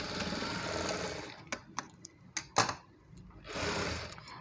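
A sewing machine stitches the neck band of a work blouse, running in a steady close whir for over a second, pausing with a few sharp mechanical clicks and taps, then whirring again briefly. No one talks.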